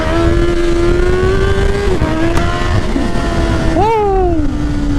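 Honda CB650R motorcycle engine droning steadily at a constant pitch during a ride, with a sharp rev rising and falling partway through, loud and close throughout.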